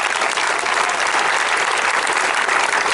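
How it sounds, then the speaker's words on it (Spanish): An audience at a political rally in Madrid applauds, dense and loud clapping filling the whole stretch evenly without a break. "El aplauso a Youssoufa."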